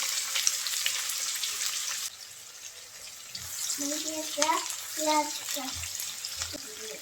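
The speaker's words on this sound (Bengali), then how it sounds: "পেঁয়াজটা হালকা একটু ভেজে নেব" Chopped onion with whole cumin frying in three tablespoons of oil for bhuna khichuri gives a steady, moderate hiss, with a voice briefly audible in the background during the second half.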